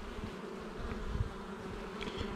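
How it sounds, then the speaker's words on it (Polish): Honeybees hum in a dense, steady drone, close and soft, like the inside of a busy hive. "Dużo pszczoły."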